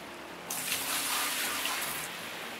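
Water pours steadily from a bucket into a hog pan to wash soil in the Gold Rush video game, a continuous close splashing gush lasting about a second and a half on its own.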